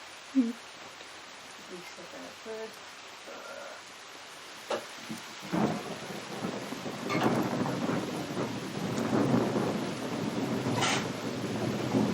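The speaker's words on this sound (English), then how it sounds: "you can hear the storm is right on top of us" Deep thunder rolls and rumbles over steady rain, growing louder and fuller toward the end, with faint voices in the quieter opening.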